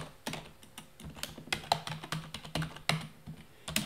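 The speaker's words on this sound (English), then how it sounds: "and type the next state." Rapid, uneven keystrokes on a computer keyboard while entering state names into an SQL query, a run of close, crisp clicks and taps with no talking.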